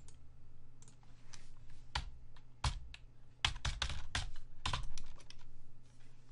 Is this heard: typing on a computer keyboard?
yes